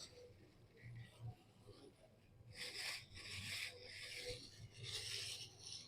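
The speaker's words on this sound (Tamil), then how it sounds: "இப்போ இதை வந்து நம்ம கவர் போட்டு மூடி வச்சிடணும்." A plastic cover is pulled over plant cuttings of hibiscus and jasmine, making bursts of crinkly rustling and rubbing, close by and moderately loud, following a quieter stretch.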